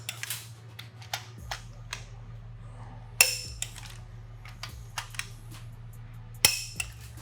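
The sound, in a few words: Snap-on click-type torque wrench clicking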